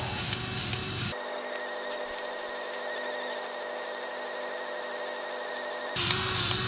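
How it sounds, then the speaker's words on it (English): An automatic grease gun pumps grease to push out an excavator's track idler, a steady mechanical whirr with a faint whine that stops and starts between louder workshop background. "Fire the grease gun up, put it in automatic. And the idler will start to come out slowly."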